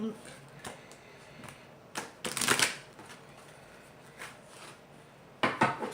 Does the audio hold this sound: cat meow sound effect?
no